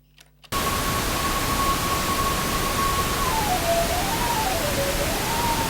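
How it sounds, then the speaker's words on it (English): Steady loud hiss passes through a notch filter and begins abruptly after a brief quiet moment, carrying a thin ringing whistle that holds one pitch and then wavers and slides up and down. "this is the sound of the notch"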